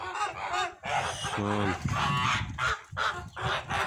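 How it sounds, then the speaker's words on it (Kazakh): Young goslings call nearby in short bursts of honking peeps, with a person talking briefly among them. "Осы жерде 20 балапан жүр."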